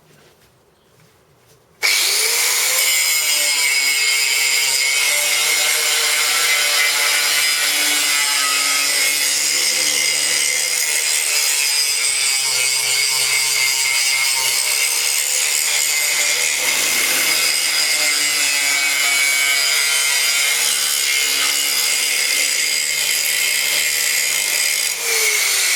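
A small corded 600-watt Bosch angle grinder runs loud and steady, grinding a point onto a piece of metal, starting abruptly after a quiet moment and holding a continuous high whine to the end.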